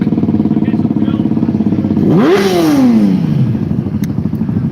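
A motorcycle engine rumbles loudly up close at a bike night in Withernsea, its pitch sweeping up then gradually falling as it passes, over a steady throbbing idle.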